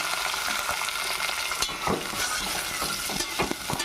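Chopped tomatoes and large onions hit hot oil with cumin for an Andhra chicken curry, a steady loud sizzle broken by stirring scrapes and small spatters.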